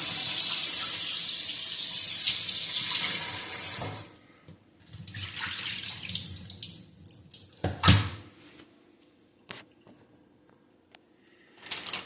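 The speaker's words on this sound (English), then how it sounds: "Like to run my water a little bit before I rinse any food." Kitchen tap running steadily into a sink for about four seconds before shutting off, followed by scattered clinks, drips and handling sounds close by.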